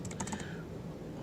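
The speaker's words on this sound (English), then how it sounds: "I don't have the fat fingers here on the keyboard" Quick bursts of typing on a computer keyboard, a cluster of about five crisp key clicks in the first half second, then a quiet room with no speech.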